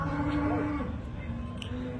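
Cattle moo at a Punganur cattle market, with one long, close low moo that bends in pitch and then fades. A second, fainter moo and a brief voice in the background follow.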